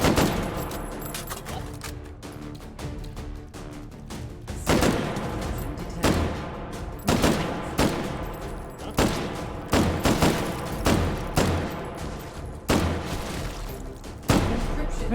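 Rapid bursts of gunfire from a gun in the VR game Hot Dogs, Horseshoes & Hand Grenades, sharp repeated shots crackling close and loud over a busy din throughout.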